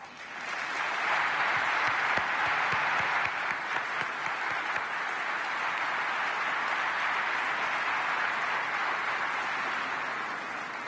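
A large conference audience at the opening of an international petroleum technology conference applauds organizers and students, with sustained dense clapping that fills the hall and fades slightly at the end.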